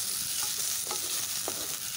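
Bottle gourd skin and green chillies fry on high flame in a pan, a soft steady sizzle broken by a few stirring scrapes. Close and continuous, no talk.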